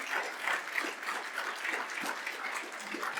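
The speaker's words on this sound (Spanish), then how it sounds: "Le damos un aplauso a Dios por eso." A church congregation claps steadily for a few seconds, a dense, even patter of hands filling a large room, with faint voices underneath.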